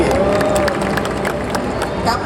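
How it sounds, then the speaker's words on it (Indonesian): Audience applause and cheering fill a live stand-up comedy show at a corporate family gathering at ICE BSD, a dense, steady wash of clapping and crowd noise with voices mixed in. "Wah, tepuk tangan buat siapa?"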